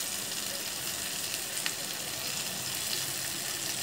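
Curry leaves sizzle in a pan of frying prawns, making a steady, bright crackling hiss that holds evenly throughout with no talking.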